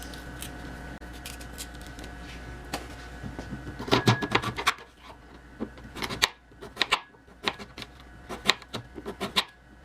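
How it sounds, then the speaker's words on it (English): A knife slices through beets on a cutting board, with irregular clusters of crisp chopping taps and scrapes, close and fairly quiet, growing busier partway through. "just got to be very careful when you're cutting your beets"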